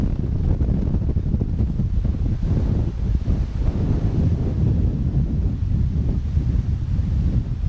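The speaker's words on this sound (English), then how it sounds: "The wind is whipping today." Strong wind buffets the microphone in a steady low roar with gusty rumbling throughout, and no voices are heard, outdoors on Prince Edward Island.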